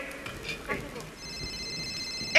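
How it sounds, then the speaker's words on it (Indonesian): A telephone ringtone going off on stage during a theatre performance in an auditorium, an electronic tone that starts partway through and keeps sounding, following some quieter stage noise. "Tuh, denger tuh. Nada telepon tuh."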